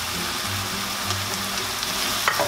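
Seasoned butter sizzles steadily in a hot pan while Habesha food cooks, a close, continuous frying hiss with low hum underneath and no talking.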